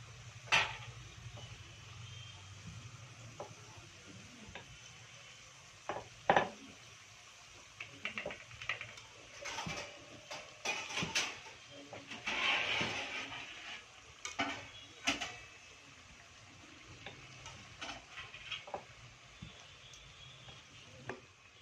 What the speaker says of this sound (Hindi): बेले हुए बादाम पूरी के पूरियों को तेल में इस तरह से तल लीजिए।